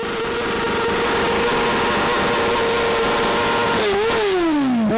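A BMW motorcycle engine runs loud and close at a steady high pitch, then the revs dip and climb sharply near the end.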